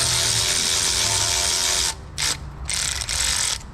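An 11 mm ratchet wrench loosens injector tubing on a Duramax 6.6 turbo diesel engine in a GMC Sierra. It gives a loud, close, fast clicking that runs steadily, then breaks into a few shorter bursts.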